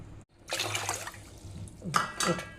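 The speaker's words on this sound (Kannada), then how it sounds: "ಈ ಒಂದು ಕಪ್ಪಿಗೆ ನಾಲ್ಕು ಕಪ್ ಆಗುವಷ್ಟು ನೀರನ್ನು ಹಾಕ್ತೇನೆ" Water pours into a pot on the stove, a steady splashing rush lasting about two seconds with a brief clink of metal near the end, close and fairly loud.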